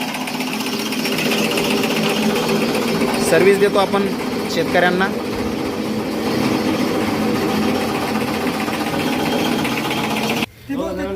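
An Ambika Agro chaff cutter runs loudly and continuously while chopping green napier grass into half-inch pieces, a steady mechanical drone close by, with someone talking over it.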